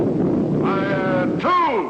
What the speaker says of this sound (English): Missile units commence firing by twos. Fire one.